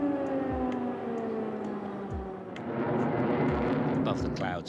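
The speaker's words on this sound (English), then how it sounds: "Air raid sirens blared out across the capital." Air raid sirens sound over Kyiv, their sustained tone slowly sliding downward while a dense, noisy rumble swells beneath, and low thuds recur at intervals.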